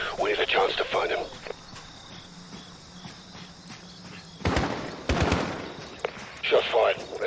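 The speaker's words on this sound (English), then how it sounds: "Shot fired." Gunshots in the Call of Duty Modern Warfare video game, a burst of sharp shots in the middle amid crickets chirping at night, with voices talking before and after.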